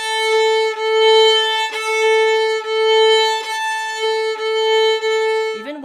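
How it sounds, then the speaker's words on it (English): A bowed string instrument with the bow slipping rather than gripping, giving a thin, silvery sustained tone that wavers and dips in loudness in regular pulses as strokes change, ending with a brief slide. "I can hear that it's slipping, the bow is slipping and it's not gripping."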